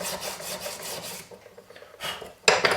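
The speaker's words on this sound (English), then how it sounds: "file and sand this, and we'll be ready for the next step" Repeated rasping strokes of a metal file against sterling silver, steady back-and-forth scraping with a short pause, then a few louder, sharper strokes at the end.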